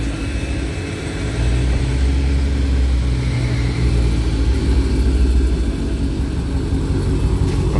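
A Mopar car engine revs through catless exhaust pipes, a loud deep rumble that swells after a brief dip and holds heavy and close, with throaty roar throughout.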